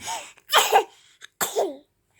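A few short, rough coughs in quick succession, close by and fairly loud, with brief pauses between bursts.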